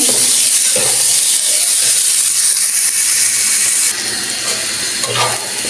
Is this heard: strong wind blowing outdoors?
no